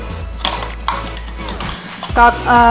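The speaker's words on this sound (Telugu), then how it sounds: "టొమాటో ప్యూరీ కూడా యాడ్ చేసేస్తున్నాను." Tomato puree goes into a pot of ulavacharu, horse gram soup, with loud close metallic clinks and scraping of a spoon against the pot, followed by a brief sizzle.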